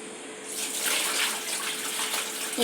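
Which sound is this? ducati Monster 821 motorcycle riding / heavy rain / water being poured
water being poured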